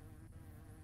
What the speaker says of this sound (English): Why are there so many damn bees?